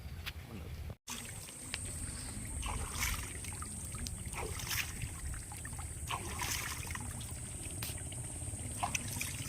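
Crabs are rinsed in river water, giving faint trickling and gentle splashing over a steady low outdoor hiss, with one abrupt brief dropout near the start.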